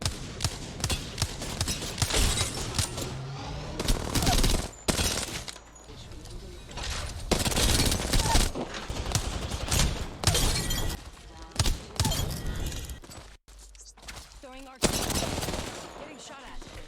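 Dense bursts of automatic gunfire and shattering impacts from an Apex Legends battle royale match on Storm Point or World's Edge, loud and continuous with brief pauses, mixed with faint game voice lines.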